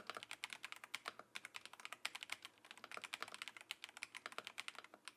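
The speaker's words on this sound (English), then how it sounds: "If you are a tactile sound person and love the sound of mechanical keyboards from back in the day, then this is your moment." Steady, rapid typing on a mechanical computer keyboard, crisp clicky keystrokes in quick irregular bursts with brief pauses, close and fairly quiet with nothing else around.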